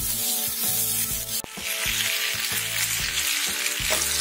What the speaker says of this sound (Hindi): ये पास्ता और वेजिटेबल्स को हम अच्छे से मिक्स कर दे रहे हैं